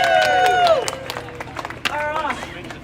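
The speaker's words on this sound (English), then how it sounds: "Everyone cheer while he goes." A crowd at a live auction on a street cheers and whoops loudly, with claps and some scattered voices as the noise fades and then flares briefly.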